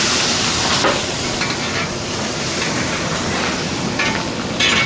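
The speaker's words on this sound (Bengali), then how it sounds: "মাংসটা কষাচ্ছি" Meat sautéing in a pan for mutton kosha, a steady close sizzle and hiss running without break, with faint stirring scrapes now and then.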